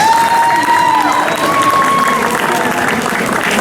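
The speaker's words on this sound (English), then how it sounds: "So let's hear a round of applause." A crowd applauds and cheers for a judge at a cosplay contest at Quad Con Peoria, a loud, continuous wash of clapping with a voice and a whistle-like tone riding over it.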